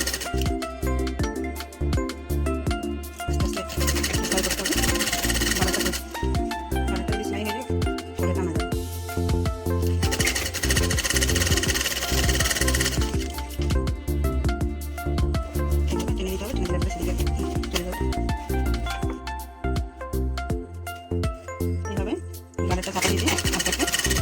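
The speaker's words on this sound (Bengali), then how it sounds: "আস্তে আস্তে সেলাই করতে হবে" A sewing machine stitches elastic into the waistband of small children's shorts, running in repeated bursts of rapid whirring with short pauses between, close by, while a voice talks over it.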